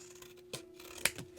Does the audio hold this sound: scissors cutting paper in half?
yes